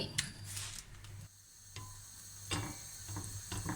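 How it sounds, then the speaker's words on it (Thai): Thai curry paste stir-fried in a pan for mushroom curry, a soft sizzle with intermittent scraping and clatter of a utensil against the pan, fairly quiet and without speech. "เดี๋ยวเอาพริกแกงไปผัดให้หอมเนาะ"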